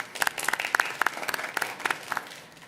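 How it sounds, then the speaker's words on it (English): At a school board meeting, a few people clap for recognized charter school students, sparse distinct claps forming an uneven rhythm that fades toward the end. "Let's give them a big round of applause"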